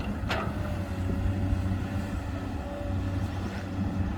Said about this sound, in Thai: รถขุดนะฮะโคมัสุนะฮะ PC 200เป็นรถขุดที่มีขนาดใหญ่นะครับ เครื่องยนต์ 6 สูบนะฮะ